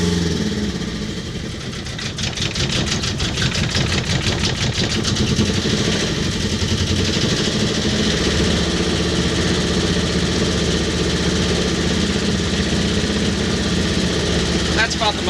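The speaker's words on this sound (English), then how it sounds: "And that runs it up to the mechanical governor limit. Engine runs very, very smoothly." A Tartan 27 sailboat's inboard engine runs steadily at full throttle up to its governor limit, a smooth, continuous mechanical drone with a faint rhythmic pulse, loud and close.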